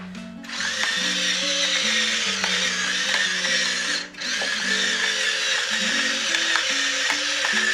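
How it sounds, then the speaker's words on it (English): A pepper mill grinds black pepper over parsnip and apple soup in one steady, continuous crunching ratchet lasting several seconds, with a brief pause partway through. It is close and fairly loud, and no one speaks. "A good blast of freshly ground pepper."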